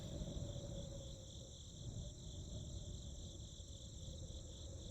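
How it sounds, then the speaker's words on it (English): Crickets chirp steadily in a game scene from The Darkside Detective, a continuous high insect trill over a low, noisy ambient background, fairly quiet and unbroken throughout. "There's a chirping sound from over here."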